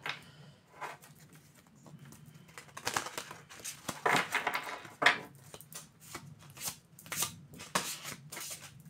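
Oracle cards are shuffled by hand at close range in a quiet room, giving a run of soft papery riffles and crisp flicks that grow denser and louder midway, with brief pauses between bursts.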